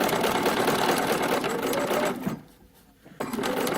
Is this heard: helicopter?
no